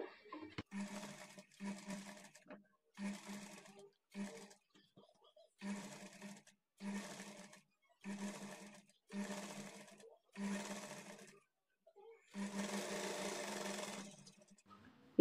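A sewing machine stitches a blouse side joint at a half-inch margin in bursts of about a second, separated by brief pauses, fairly faint, ending with a longer continuous run.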